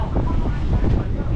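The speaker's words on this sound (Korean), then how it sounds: "파도가 치고 있다." Ocean waves wash onto a shore at Banyuwangi on Java in a continuous low surf rumble, heavily buffeted by close wind noise on the microphone.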